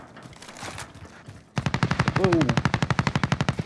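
Rapid automatic gunfire from the video game Warzone, a steady burst of evenly spaced shots starting partway through after quieter game noise, with a short exclamation from a player.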